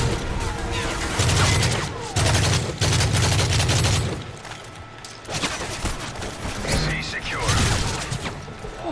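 Rapid bursts of gunfire in Call of Duty: Modern Warfare III crackle and boom repeatedly, with dense automatic fire and explosive impacts filling the scene.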